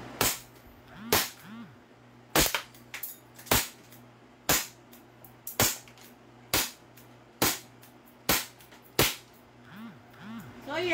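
A toy pistol fires about a dozen sharp, loud cracks at a steady, slightly irregular pace, each snapping out cleanly with faint clicks and handling noise between shots and no talking.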